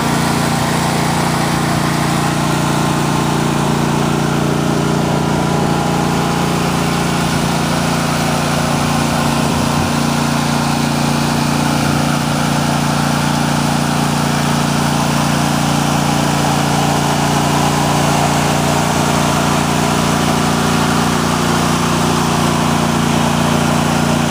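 John Deere D130 lawn tractor with its engine idling: a steady, close mechanical hum with a low rumbling undertone that holds even throughout, without voices.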